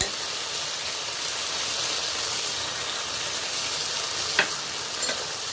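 Spices, turmeric-chilli paste and ingredients for a Bengali rohu fish curry with spring onion and potato frying in a pan, a steady broadband sizzle with a couple of faint scrapes of stirring.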